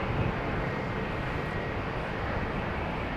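An airplane at London Heathrow Airport produces a continuous, even broadband roar of jet engine noise that stays at a steady level for the whole stretch, with no voices over it.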